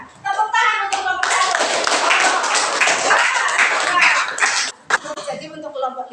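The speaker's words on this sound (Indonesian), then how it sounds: "Tepuk tangan untuk kelompok" Classroom applause for a student group, brisk clapping from many children that starts after a brief voice, holds steady for several seconds, dips, then resumes with scattered talk and claps.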